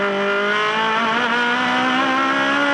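Loud onboard engine note of an Aussie Racing Car at the Adelaide street circuit, revving steadily with rising pitch and brief dips as the driver eases off the throttle for upshifts, continuous and close throughout.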